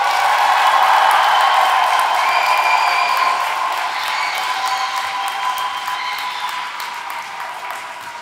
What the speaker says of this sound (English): Let's give them the biggest round of applause